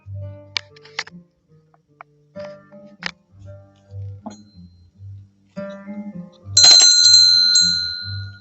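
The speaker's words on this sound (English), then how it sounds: "I will ring the bell in honor of her arrival" A single bright bell strike, rung to mark the arrival of a Model 620 machine, rings out loudly and lingers after a series of quiet clicks and soft knocks.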